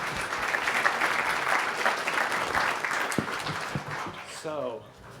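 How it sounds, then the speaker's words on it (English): Applause from a conference audience after a lightning talk, a steady crowd clapping that gradually fades, with a voice starting to speak at the end. "Another round of applause for Michael."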